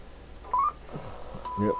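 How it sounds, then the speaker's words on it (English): A short electronic CB radio roger beep sounds after a brief burst of radio static and a voice, ending the transmission, from a President Taylor CB radio. "Yep, that's the Roger beep."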